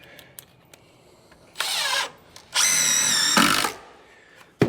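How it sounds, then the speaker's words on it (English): A power drill drives a screw into a corner during a tiny house vent pipe install, with two close, loud whirring bursts, the second longer, set apart by short pauses and faint handling clicks. "I'm gonna pin this corner with a screw"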